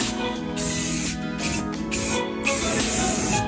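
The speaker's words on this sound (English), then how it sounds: "This is the same color as the van, this spray." Aerosol spray paint can, matched to a van's color, hisses in several close bursts of steady spraying separated by brief pauses, the final burst longest.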